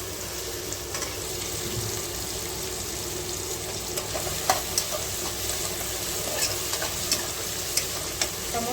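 Tomato fries in oil in a pan for home-made egg rice, a continuous close sizzle with scattered clinks and scrapes as a spoon stirs it.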